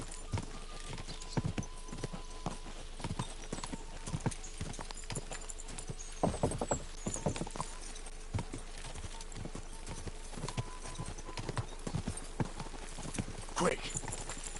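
Horse hooves galloping in the video game Kingdom Come Deliverance 2, a quiet, irregular run of thudding hoofbeats with soft clattering, under low background sounds and occasional short game noises.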